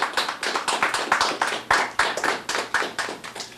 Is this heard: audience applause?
yes